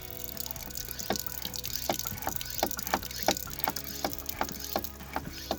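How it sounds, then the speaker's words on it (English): A Lifesaver jerry can filter is pumped, sending water into an RV's water tank. A steady gush runs under a regular series of sharp pulses, about two each second, with no talk. "we have a good flow of water coming out, and then it actually just kind of sits perfectly in my water tank"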